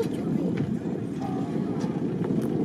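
A horse and bullock cart race on an open dirt ground during a Diwali event, heard as rapid hoofbeats and rolling wheels with a constant noisy rumble and wind, while a voice talks over it.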